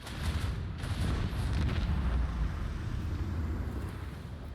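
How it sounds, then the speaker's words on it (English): Starboard macro cannons fire in the Rogue Trader video game, a dense, rumbling barrage of heavy booms rolling on continuously at moderate loudness, with no talking. "Starboard macro cannons."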